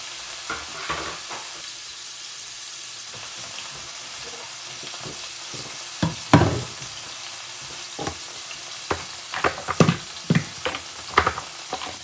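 A New York strip steak fries in hot cooking oil, a constant sizzle broken by sharp crackles and pops, with occasional clanks and scrapes of a utensil in the pan.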